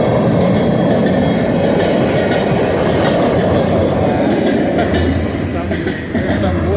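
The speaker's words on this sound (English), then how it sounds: "The train is long past, so that's good." Canadian National freight train rolling past on the tracks, a loud, steady roar with clattering wheels and rail noise filling the whole stretch, close by and continuous.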